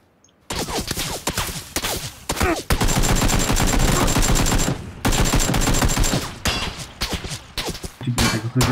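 Rapid bursts of PlayerUnknown's Battlegrounds gunfire, automatic volleys and single shots, loud and close with brief pauses between strings of fire.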